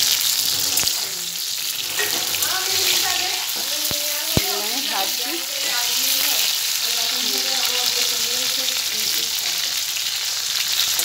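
Oil sizzles steadily in a pan while frying for chilli chicken, with occasional stirring scrapes and clinks over the hiss and a voice speaking briefly.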